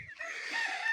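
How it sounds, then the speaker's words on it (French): Brahma chickens and roosters of partridge-gold and blue partridge-gold colouring cluck and call in a farmyard, a short close crow-like cry over soft, continuing clucks at moderate volume, with no talking. "on a des poules Brahma perdrix doré, poules Brahma perdrix doré bleu, une perdrix doré là, perdrix doré bleu là, des coqs perdrix doré bleu"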